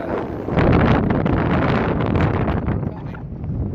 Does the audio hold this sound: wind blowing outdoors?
yes